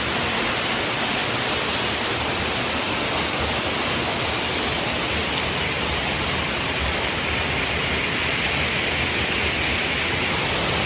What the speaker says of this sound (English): we got a good view of the waterfall from here